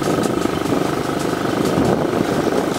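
A motorcycle engine runs with a steady, droning hum at constant volume for about three seconds, fairly loud and without pauses.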